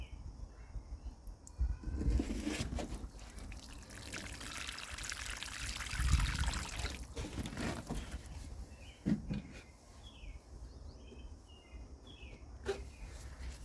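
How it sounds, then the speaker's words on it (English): A watering can pours fertilizer-mixed water onto a freshly planted Black Beauty eggplant, a steady close trickle and splash that swells and fades over several seconds, with birds chirping faintly outdoors. "I put the water-soluble fertilizer in the watering can. We're just going to soak down this plant."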